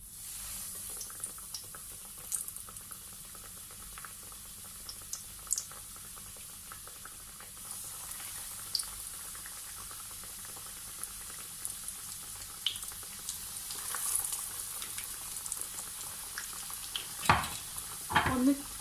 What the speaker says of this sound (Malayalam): ഓയിൽ ചൂടായിട്ടുണ്ട്. ചിക്കൻ പതുക്കെ ഇതിലേക്ക് ഇട്ട് കൊടുക്കാം.